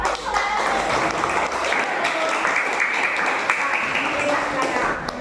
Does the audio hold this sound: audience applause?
yes